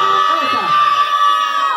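A crowd of children at a clown show in Cuautitlán Izcalli shouts loudly all at once, a short, near and sustained burst of excited voices.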